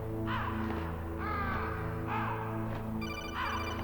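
Crows cawing in the Metal Gear Solid video game, several harsh repeated caws over a steady droning tonal background, with a faint electronic ringing near the end.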